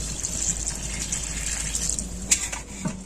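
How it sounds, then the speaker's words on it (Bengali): Water poured into a pot of chicken curry with fried potatoes: a continuous rushing gush of liquid, close and steady, ending in a couple of faint knocks, with no speech. "কষা হয়ে গিয়েছে, এবারে জল দিয়ে দেবো।"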